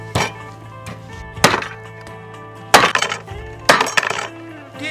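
A cleaver chops through lamb spine bones for a dry-pot dish, with four heavy, sharp whacks spaced about a second apart and ringing briefly, close and loud with no talking.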